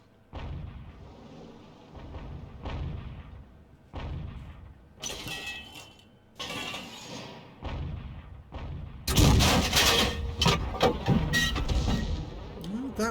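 Artillery shots from an SU-8 self-propelled gun in World of Tanks, heavy booms repeating every second or two, growing louder and denser toward the end.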